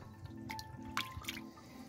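Lukewarm water poured into a size 60 natural sausage casing, heard as quiet, close drips and small splashes in short bursts over about two seconds.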